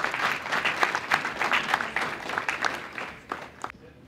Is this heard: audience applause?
yes